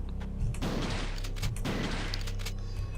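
Two heavy shotgun blasts boom in the Biohazard horror game, each followed by a rumbling decay, spaced about a second apart under a steady background drone.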